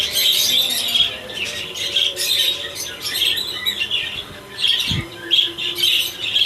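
Hagoromo canaries in a breeding cage give bursts of harsh squawks and chirps, close and fairly loud, repeating throughout with brief pauses and some fluttering between calls.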